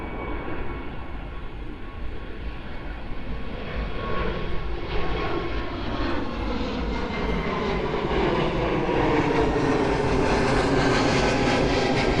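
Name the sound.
Boeing 747 airliner engines at Miami airport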